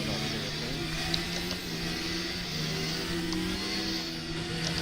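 A race car in the Assetto Corsa sim racing game driving through heavy rain alongside AI cars, with puddles and spray. A steady engine drone with gear-pitch shifts runs under a constant wet hiss throughout.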